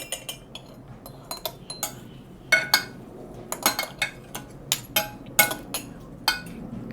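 Utensils mixing a Thai spicy squid salad: irregular metallic clinks and scrapes against a bowl, close and crisp, in quick uneven clusters.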